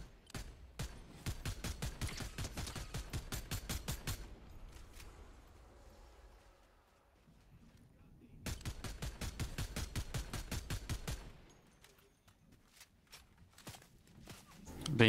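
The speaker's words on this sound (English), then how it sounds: "Being shot at, fantastic news." Rapid gunfire in the video game Fortnite, two long bursts of fast, evenly spaced shots separated by a quieter gap, with a loud thump at the very end.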